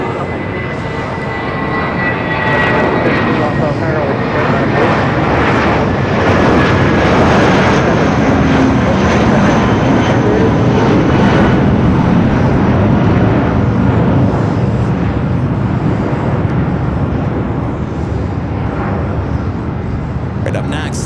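A Frontier Airlines airliner takes off from runway 7 right at Los Angeles International Airport, bound for Salt Lake City. Its engines give a loud, sustained roar that builds and holds steadily throughout, with a faint radio voice heard at times.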